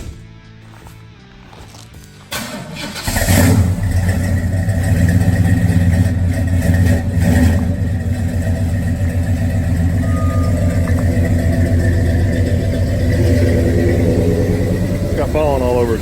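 A Cutlass engine cranks and catches after a couple of seconds of quiet, then idles steadily and loudly nearby, with a rough, throaty rumble and light background noise.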